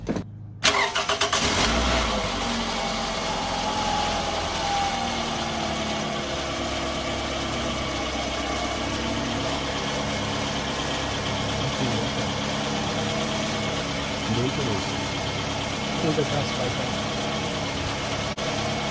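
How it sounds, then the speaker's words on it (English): A car engine cranks briefly and catches after a mass airflow sensor refit, then settles into a smooth, steady idle that runs unbroken and close for the rest of the clip. "now what you want to do is you want to give the engine a quick starter"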